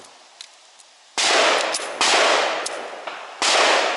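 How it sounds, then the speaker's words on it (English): A Chinese Hi-Power pistol is slotted into its wooden holster stock. Three loud, close bursts of scraping and clattering wood and metal, each lasting almost a second, with no talking. "can then pop into wooden stock like this and become the holster"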